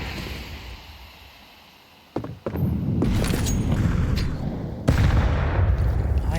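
A grenade blast in Counter-Strike 2, a sharp crack followed by a booming, rumbling burst and further loud thuds, rising out of quieter gameplay noise.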